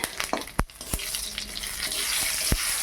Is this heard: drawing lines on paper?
no